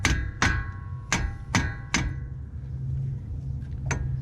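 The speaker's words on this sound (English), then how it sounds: "striking the bolt bracket that's part of the caliper as well as the side of the caliper in the front to jimmy it loose" A hammer strikes the front brake caliper and its bolt bracket on a 2019 Subaru Impreza, five sharp metallic blows in a steady rhythm, then a pause and one more hit, close and loud, with no voices.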